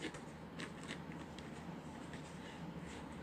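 Packaging of a new egg boiler being opened, with steady rustling and scraping of paper or plastic and a few sharp crisp crackles, close and continuous throughout.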